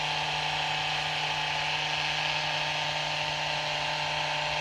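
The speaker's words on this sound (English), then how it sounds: "the high-speed vibration" A percussive massage device buzzes at high speed against a forearm during post-surgery rotator cuff rehab, a steady close whirring hum with a constant pitch and no talking.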